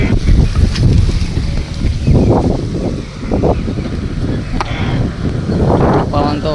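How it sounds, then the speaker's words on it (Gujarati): Strong wind blows across an open farm field where soil is being dug, a loud steady roar with gusting swells throughout. "પવન બહુ આવે."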